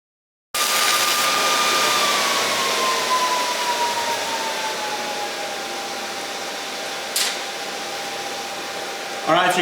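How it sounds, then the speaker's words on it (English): Cooling fan on a Miller Multimatic 220 welder, a loud steady whooshing drone with a tone that slowly drops in pitch, running continuously from start to finish. "you can probably hear behind me that the fan on the machine is running"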